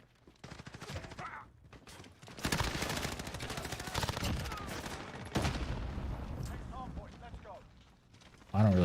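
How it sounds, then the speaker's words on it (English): Gunfire in a Modern Warfare match, rapid bursts of shots clattering through the game mix in uneven stretches with brief lulls and a sharper blast at the end, with no one speaking over it. "You can stop shooting at me now."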